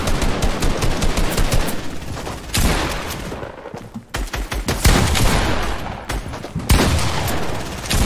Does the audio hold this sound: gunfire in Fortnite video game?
yes